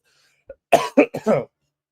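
A short burst of hoarse coughs, three or four in quick succession, close to the mic and loud.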